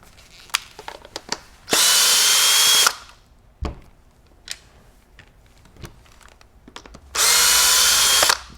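A power drill backs Phillips head screws out of a Benelli Ethos semi-auto shotgun recoil pad assembly in two loud whirring runs of about a second each, with small clicks and handling knocks between them.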